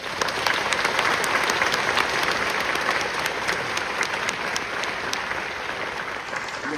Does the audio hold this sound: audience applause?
yes